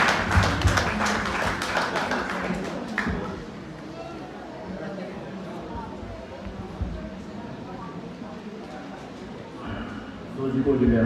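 Applause from guests at a wedding ceremony, a dense burst of clapping loudest in the first three seconds, then thinning to a softer patter under murmuring voices before swelling again near the end.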